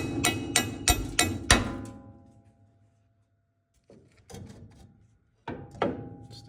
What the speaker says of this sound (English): I have to give it a tap to free it up.